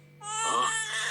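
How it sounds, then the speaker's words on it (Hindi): A newborn baby's cry rises and holds as one loud, close wail against a steady low hum, a dramatised birth in a prison cell. "ये तो बच्चे के रोने की आवाज है"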